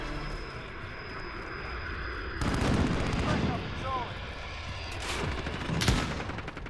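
Gunfire in an online shooter video game, with a burst of shots and impacts rising over a steady ambient game background, several sharp cracks near the end.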